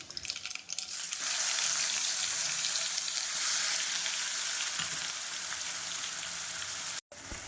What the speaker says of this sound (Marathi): तेल छान तापले आहे, त्यामध्ये घालणार आहोत आपण मोहरी 1 चमचा, जिरे 1 चमचा, फाईन बारीक केलेला मसाला घालणार आहोत